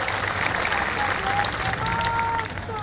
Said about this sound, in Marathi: जोरदार टाळ्या वाजून अशोकराव चव्हाण साहेबांचं स्वागत करावं